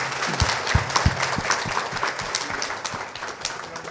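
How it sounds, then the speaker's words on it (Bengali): An audience claps to welcome a guest at a news channel's anniversary event, scattered and fairly dense applause with a few loud, close individual claps early on, gradually thinning toward the end. "আমরা একটা হাততালি দিয়ে স্যারকে বরণ করি।"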